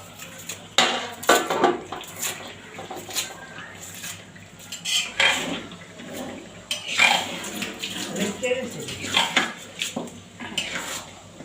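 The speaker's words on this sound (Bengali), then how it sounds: "ভালো করে লাড়া দিয়ে দাও তো গোসটা" Meat being stirred in a metal cooking pot, a spoon clanking and scraping against the pot in irregular bursts, close, with brief movement sounds between strokes.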